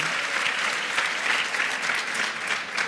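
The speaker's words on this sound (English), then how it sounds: "let's give him a round of applause" Audience at a ladies' breakfast panel discussion applauds in a dense, even wash of clapping, moderately close, sustained throughout without speech.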